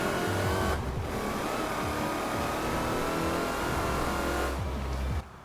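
A stock 2012 Shelby 1000 with a supercharged engine in Forza Horizon 4, roaring loud and close with a sustained revving drone and supercharger whine, dipping briefly around gear changes before cutting off at the end.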